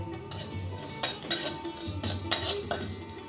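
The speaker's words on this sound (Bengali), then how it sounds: "ধনিয়া গোলমরিচ এলাচ দারচিনি আর লবঙ্গ এই মশলাটাকে আমি একটু শুকনো খোলায় ভেজে নেব" Whole spices (coriander, black pepper, cardamom, cinnamon and cloves) dry-roasted in a pan, with repeated clinks and scrapes of a spoon stirring against metal over a soft steady background.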